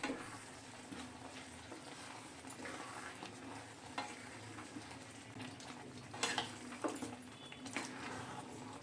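A spoon stirs oats khichdi with vegetables and chopped coriander in a pot, a steady soft scraping with a low simmering sizzle underneath and a few sharper scrapes near the end.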